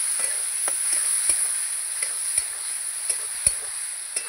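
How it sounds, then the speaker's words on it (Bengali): Ginger and onion paste being stirred in a pan, a faint sizzle with regular sharp taps and scrapes of the spoon every half second or so, close and without talk. "দিয়ে ভালো করে নাড়াচাড়া করব।"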